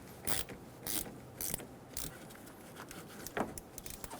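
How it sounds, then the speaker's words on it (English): A ratchet with a 10mm socket loosens the negative battery terminal on a 2005-2015 Toyota Tacoma 2.7L four-cylinder, giving several quick clicking bursts close by, then a softer click near the end. "loosen the negative terminal for the battery."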